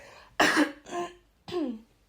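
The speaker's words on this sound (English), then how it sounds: "My coughs are really cringy." Three short, harsh human coughs spaced about half a second apart, close and fairly loud, with quiet gaps between.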